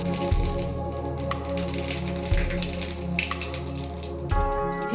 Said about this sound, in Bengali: এবার এতে দিয়ে দিচ্ছি গোটা জিরে ফোড়ন